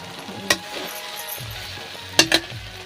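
Okra (bhindi) curry sizzles softly in a pan while a utensil stirs it, with a quiet frying hiss underneath and three sharp metallic clinks of the spoon against the pan, close and distinct.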